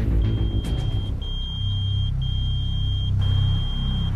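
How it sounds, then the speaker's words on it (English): A pager inside a parked car emits a repeated high electronic beep, four long steady tones with short gaps, over a low rumble of the vehicle. "they hear a beep"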